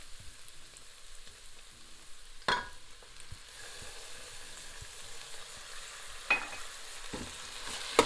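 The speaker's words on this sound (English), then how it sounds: "And stir the tomato in." Chili mixture with tomatoes frying in a pan, stirred by a utensil: a faint steady sizzle with a few sharper scrapes and clinks of stirring, no voices.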